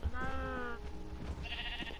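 Sheep bleating in Minecraft, a couple of wavering nasal bleats close by over a low background rumble, with no talking.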